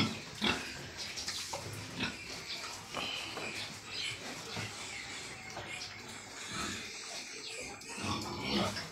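Pigs eating in a piggery alongside a goat, with close snorting, grunting and wet chomping at feed, in irregular bursts throughout.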